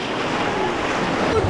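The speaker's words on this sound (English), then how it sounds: "Those were big waves." Big waves on an undammed river churn and splash around a boat in a continuous loud roar, mixed with wind buffeting the microphone.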